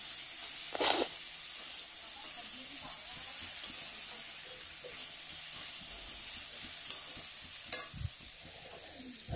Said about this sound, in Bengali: এই যে ভাজতে হচ্ছে, প্রথমে একটু ভালো করে ভাজতে হবে।